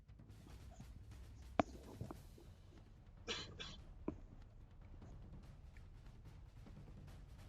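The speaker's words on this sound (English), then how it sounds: "I had a bit of a cough there." A faint, brief cough or two breaks through a quiet room hum, with a couple of small clicks nearby.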